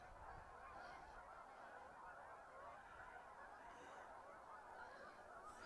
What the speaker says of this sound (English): Laid on a whole flock of geese just for you.